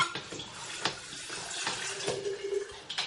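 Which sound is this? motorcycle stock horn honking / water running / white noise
water running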